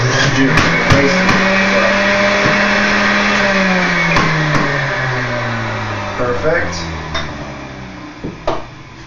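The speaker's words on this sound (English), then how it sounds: "Pulverize this into the juicer" A juicer pulverizing green juice ingredients such as apple, celery, ginger, lemon and kale: a loud, continuous motor whine that slowly bogs down in pitch, with a few sharp knocks toward the end.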